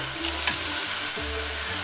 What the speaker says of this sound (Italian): andiamo ad aggiungere le zucchine